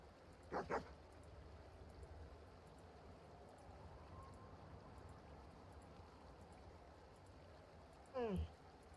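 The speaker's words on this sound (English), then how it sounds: "These fucking dogs, man." Dogs barking in the online game Tibia, two short bursts of yaps, one near the start and one near the end, over a faint steady background hum.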